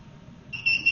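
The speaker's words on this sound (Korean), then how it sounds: "지금 무언가 연결되어 있는 상태에서는 이렇게 삐 소리가 납니다." A multimeter on its continuity setting gives a steady high electronic beep that starts halfway through, clear and close after a quiet lead-in.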